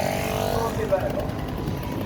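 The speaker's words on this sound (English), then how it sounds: "That's going to be a Honda Scramble bike" A Honda Scrambler motorcycle engine runs steadily at a steam and vintage show in Northumberland, a low, throbbing idle that holds close and continuous with voices and crowd chatter around it.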